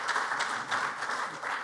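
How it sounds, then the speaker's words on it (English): An audience at a summit panel session applauds, a dense, even roar of clapping hands that rises and falls slightly over its short span, with no speech. "Let's give them a round of applause."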